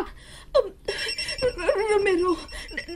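A phone rings with an incoming call from Mama, its tone sounding briefly under a woman's speech nearby.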